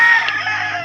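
A chicken on a small backyard farm gives a single brief, loud crowing call, with no other sound around it.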